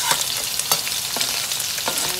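Celery, cilantro, green seasoning, ginger and pepper sauté in hot oil for Guyanese vegetable chow mein, a dense close sizzle with quick scraping stirs repeating every half second or so.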